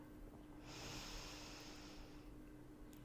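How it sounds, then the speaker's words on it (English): A single long, deep inhale during yoga breathing, an airy nasal draw lasting about a second and a half, close and soft over a quiet room. "Again, big deep inhale."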